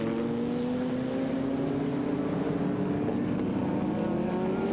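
Race car engines at the 1997 Daytona 24 Hours endurance race roar continuously, their pitch climbing steadily as the cars accelerate, loud and close.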